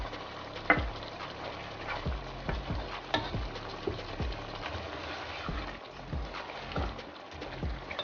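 Garlic ginger paste sizzles and fries in a pan for aloo gosht while being stirred, with a steady hiss broken by regular scraping strokes of a spoon, faint and close.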